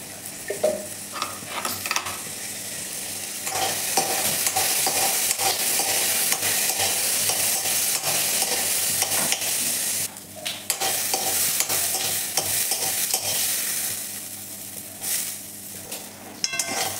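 Fresh pigeon peas roast in a little oil, with a steady sizzle under repeated spatula stirring and scraping against the pan, close and fairly loud, with a brief lull midway.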